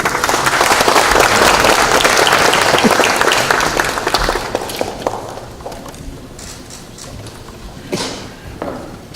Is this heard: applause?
yes